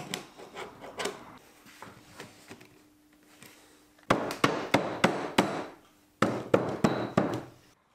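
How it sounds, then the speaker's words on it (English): Carbide scraper working old glue off the wooden tenons of a piano stool: rapid runs of sharp scraping strokes, close and fairly loud, in two bursts after quieter rubbing and tapping, with no talk. "Here I'm using my carbide scraper to remove the old glue from the tenons."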